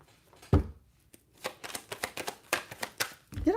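A deck of playing cards being shuffled close up: an initial snap, then a quick series of riffling flutters and soft taps, with faint talk in the background.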